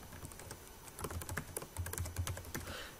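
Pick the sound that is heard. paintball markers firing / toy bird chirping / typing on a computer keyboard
typing on a computer keyboard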